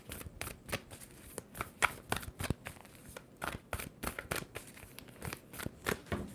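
Tarot cards being shuffled by hand, close and crisp, in a quick irregular series of riffling bursts and taps with short pauses between them.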